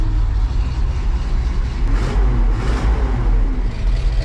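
A 1934-1936 International truck engine with carburetor trouble runs steadily up close, a loud, rough low rumble with slight surges in revs throughout, no talking.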